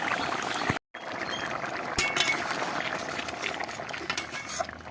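Potato and pointed gourd curry simmering down in a pan, a steady bubbling boil with soft liquid sounds, a brief dropout near the start and a small clink at two seconds, heard alone without talk.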